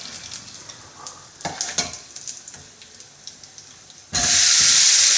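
Ingredients for tomato chutney fry in a pan with scattered spoon scrapes over a faint sizzle, then a sudden loud hissing burst as something hits the hot oil.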